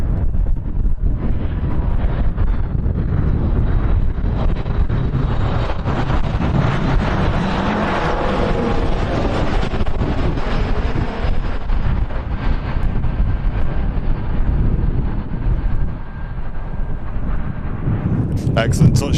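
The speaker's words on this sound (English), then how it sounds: "as you can hear from the microphones, it is pretty windy today" Strong gusty wind buffets outdoor microphones at Manchester Airport, a loud, continuous broadband roar with shifting low rumble and brief flutters, steady throughout and close to the mics.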